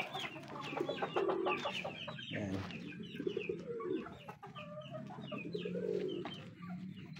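Chickens clucking continuously nearby with other birds cooing in the background, and a brief word spoken.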